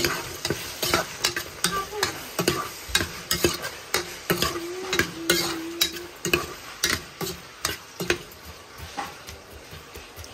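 Onions frying in hot oil for a spinach and prawn bhuna, a steady sizzle broken by regular rhythmic scrapes and stirs of a spoon in the pan, with no talk.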